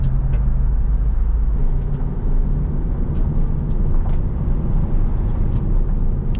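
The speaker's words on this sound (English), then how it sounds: "Might put the window up. I'm getting a little bit of wind noise." Steady wind roar rushes through the open window of a 2007 Mitsubishi Eclipse SE while driving, with road rumble underneath and a few faint ticks.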